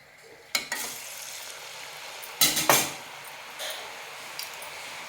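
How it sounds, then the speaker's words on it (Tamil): Murukku frying in hot oil: a steady sizzle under brief metal clinks and scrapes from stirring, close and moderately loud. "ஒவ்வொரு முறுக்காக போட்டுட்ருக்கோங்க."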